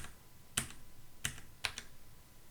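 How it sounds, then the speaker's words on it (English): Three crisp, separate taps on computer keyboard arrow keys, spaced under a second apart, close and fairly quiet against faint room noise. "You can also use the arrow keys on your keyboard."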